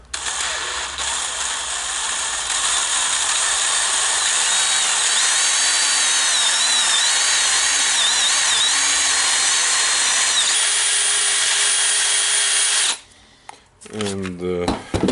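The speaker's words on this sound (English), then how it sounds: "now on my table some Dewalt Drill DCD796, and the problem is working intermittent." Dewalt DCD796 18V brushless drill driver with an intermittent fault, held close and whirring loudly and steadily for about thirteen seconds before cutting out, then sputtering in brief uneven bursts.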